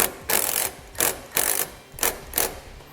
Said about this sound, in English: We're going to take our self-tapping screws, we're going to mount this into place.